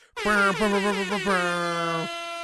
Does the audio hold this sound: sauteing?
no